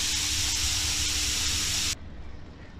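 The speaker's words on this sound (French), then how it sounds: "Bien saisir notre viande." Beef pieces searing in a hot pan for bœuf bourguignon, a loud, steady broadband sizzle that holds for about two seconds, then cuts off abruptly to a much quieter low hiss.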